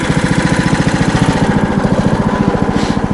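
A snowmobile engine runs loud and close during a ride on a winter trip to check marten traps, its rapid, steady chugging pulse holding an even pace throughout.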